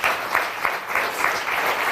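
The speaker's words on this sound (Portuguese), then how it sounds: "Um aplauso para a doutora Herane Carvalho." A studio audience on a Portuguese morning television show applauds a guest doctor, a dense continuous clapping that stays loud and even throughout.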